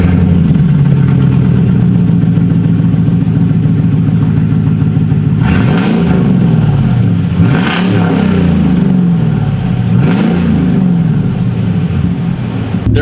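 A 2011 Ford F-150 pickup with the 6.2L V8 starts from somewhat cold, settling into a loud steady idle, then revs up three times with rising and falling sweeps before dropping back to idle.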